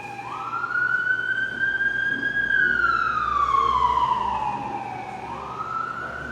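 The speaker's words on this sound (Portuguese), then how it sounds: "Passou a ambulância aí." An ambulance siren passing on the street outside, a loud wailing tone that slowly rises and falls over a steady traffic hum, with no voices.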